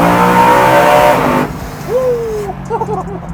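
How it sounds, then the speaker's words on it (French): A BMW convertible's V8 roars loudly in a tunnel, a sustained revving blast that drops into a lower rumble as it echoes off the walls. "Ah le V8 il est vraiment présent."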